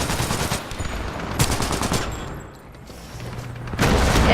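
Rapid bursts from the Alternator gun in Titanfall 2 crackle in quick repeated volleys, pausing briefly midway before another loud burst of fire resumes near the end.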